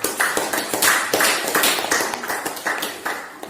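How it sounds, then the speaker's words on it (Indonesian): A classroom audience claps for a presenting student group, a short burst of close, uneven handclaps lasting a few seconds with no talking. "tepuk tangan dulu buat kelompok"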